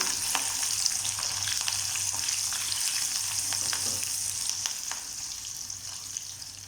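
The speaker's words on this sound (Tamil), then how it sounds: "சேர்த்துடலாம். வெங்காயம் லைட்டாக வதங்கட்டும்." About fifteen peeled, cut small onions fry in a pan for appalam kulambu, giving a steady close sizzle with light stirring clicks and no talking over it.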